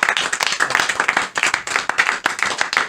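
Audience clapping in quick, dense bursts with short dips, close and fairly loud, with no talk over it.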